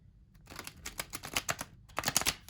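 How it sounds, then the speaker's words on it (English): Tarot cards being shuffled up close, in quick crisp riffling bursts with short pauses between, fairly quiet and with no talking. "Now, while I'm shuffling"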